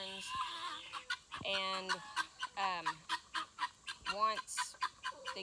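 Poultry calling in a run: repeated harsh, rhythmic guinea fowl cries mixed with Leghorn chicken clucks, close and fairly loud, with a brief word spoken.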